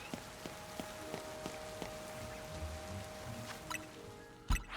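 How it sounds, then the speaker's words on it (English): Soft steady rain falling in Pokémon Legends Z-A, a quiet continuous patter with occasional light taps and a brief louder knock near the end, no talk over it. "Oh wait, it's raining."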